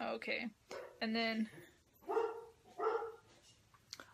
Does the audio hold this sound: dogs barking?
yes